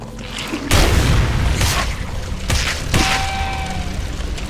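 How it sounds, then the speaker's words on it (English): A firebomb going off in a video game: a deep booming blast followed by a rumbling burst, then further thuds and a short ringing tone, loud and close. "Oh, we can use a firebomb."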